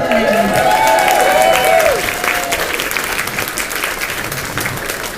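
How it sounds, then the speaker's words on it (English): An audience at a comic convention Q&A in Scarborough applauds as a guest actor is introduced, loud sustained clapping with some crowd noise, plus a brief tonal sweep at the start, tapering slightly toward the end. "A round of applause for Chris Barrie."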